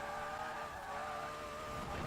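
A 1900 horsepower drag Mustang in Forza Horizon 4 roars under hard acceleration, its rising engine note steady and loud, with a hint of tire squeal over the whole short burst.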